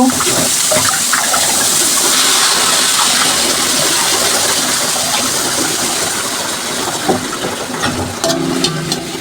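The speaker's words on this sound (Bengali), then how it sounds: "লবণের একটু একটু পানি দিব।" Water pours steadily into a pan of cooking teasel gourd with salt, making a loud continuous gush that lasts the whole stretch, with faint clinks near the end.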